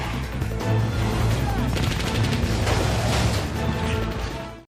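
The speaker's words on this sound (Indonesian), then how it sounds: "Dalam sekejap situasi menjadi sangat kacau hingga aksi baku tembak pun gak bisa dihindarkan" Film gunfight with dense, rapid gunfire and crashing impacts, loud and continuous for several seconds before cutting off abruptly.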